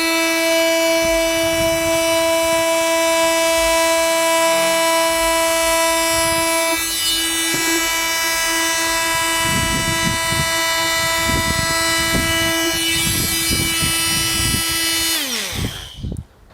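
A Fein Multimaster oscillating multi-tool with a blade fitted runs at top speed, a loud steady high-pitched whine with strong tonal harmonics and rattling vibration, shifting slightly partway through before cutting off at the end; no talking.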